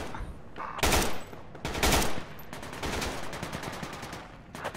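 Gunfire in Project Reality on the Goose Green Falklands map: two loud close bursts of automatic fire, then a longer rattling volley of rapid shots, with distant shooting continuing underneath.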